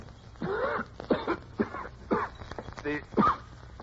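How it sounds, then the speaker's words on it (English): A man coughs repeatedly, several harsh hacking bursts in a row, close and moderately loud, with a faint background tone. "How long have you had that cough"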